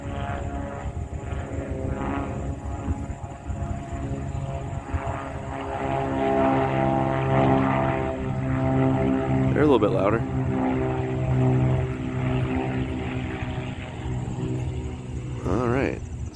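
A steady, droning propeller engine hum fills the air as piston propeller aircraft pass overhead at an air show in Akron, Ohio, growing a bit louder midway, with people talking nearby.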